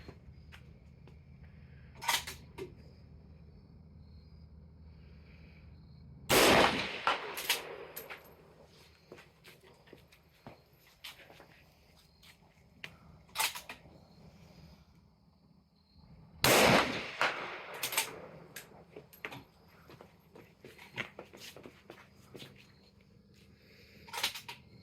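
Rifle shots from 147 grain hand loads fired over a Garmin Xero C1 Pro chronograph outdoors: two sharp, loud reports about ten seconds apart, with a few fainter clicks and knocks in between.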